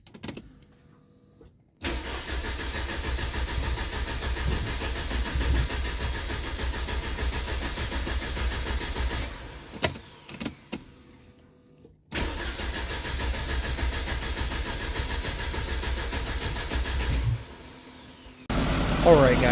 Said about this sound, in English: after a little bit of persuasion and cleaning out these fuel lines, it's obviously running, it started